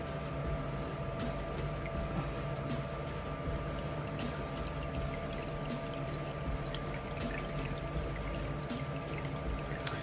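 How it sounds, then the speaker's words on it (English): Water steadily trickles and drips from a fountain pen being rinsed clean of ink, a continuous close, soft splashing with faint clicks over a steady background hum. "you will know when it's extremely, extremely clean, because it will drip out clear water"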